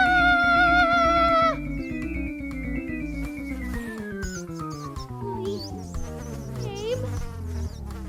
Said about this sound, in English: They were flying, fluttering, buzzing here, there, and everywhere.